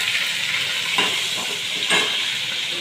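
Ginger, garlic and chili paste with green chilies sizzles in a hot pan, a steady frying hiss with two brief stirring scrapes, close and alone.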